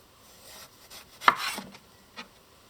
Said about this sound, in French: Pour couper un peu plus facilement, on va faire des belles tranches.